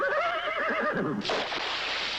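A horse whinnies loudly and clearly in a Miller Lite beer commercial, a single wavering neigh in the first second followed by a burst of broadband noise.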